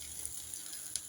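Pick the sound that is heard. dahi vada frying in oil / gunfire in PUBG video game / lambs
dahi vada frying in oil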